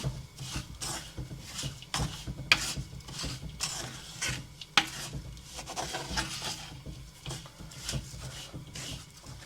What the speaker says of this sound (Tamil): 100 கிராம் மாசித்தூளும் 50 கிராம் வெட்டுத்தூளும் சேர்த்து இதோட கலந்தெடுப்போம்